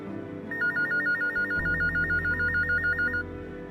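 A telephone rings with a warbling electronic trill for a few seconds, starting after a moment of low background hum.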